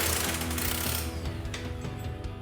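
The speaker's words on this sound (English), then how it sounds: "we're gonna put a 22mm impact on that to remove that bolt" A 22mm impact wrench works loose the lower shock bolt on a RAM 2500 truck during a front leveling kit install, with a loud, dense mechanical hammering and rattling that eases partway through, close up.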